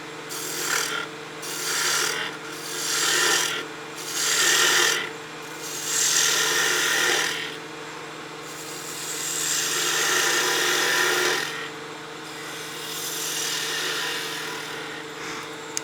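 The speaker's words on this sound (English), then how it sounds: "we'll use a slicing cut with our skew" A skew chisel makes slicing cuts on spinning wood at a lathe, a rough, close rasping that comes in several rhythmic passes and then longer steady strokes, with no talking.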